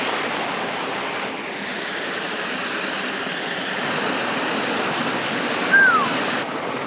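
Water at a disc golf course, a steady broad wash like moving water or gentle surf, with one brief rise near the end. The sound runs continuously and no one talks over it.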